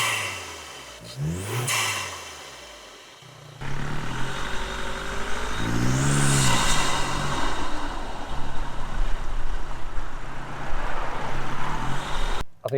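A VW Transporter van engine fitted with a PRORAM induction kit starts up and revs close by, with sharp rising and falling revs over a steady idle and a deep intake roar.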